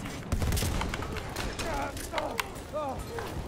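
Battlefield 1 combat rattles with dense bursts of rifle and machine-gun fire, some sharp nearby shots over a constant noisy battlefield din, with whistling, swooping tones drifting through the mix.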